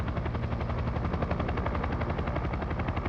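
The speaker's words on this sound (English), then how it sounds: "This is the helicopter shot of Jones." A helicopter filming the 1991 Mazda Winter Rally drones loudly overhead, its rotor blades thumping in a fast steady pulse that fills the whole stretch.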